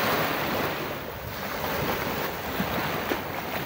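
Seaside waves wash in near a pier, a continuous close surf hiss mixed with gusts of wind buffeting the microphone.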